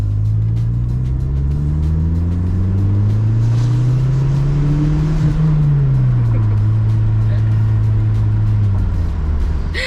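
Mazda MX-6 turbo car pulling hard in second gear, a loud close engine drone whose pitch rises steadily for several seconds and then drops as the revs fall away.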